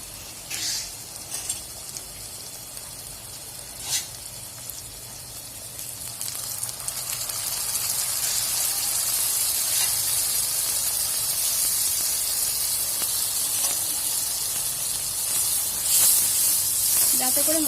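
A little water hits a pan of fried onions and softened tomatoes with spices, raising a steady broad sizzle and hiss that grows louder after a few seconds and continues alone, with a few clinks near the start.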